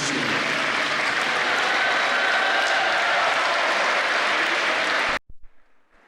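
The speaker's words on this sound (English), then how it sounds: "So please, a big round of applause for his thoughts he has shared." Applause for a speaker at a panel discussion on growth through innovation, a dense, steady wash of many clapping hands that holds evenly and then cuts off abruptly near the end, leaving near-silence.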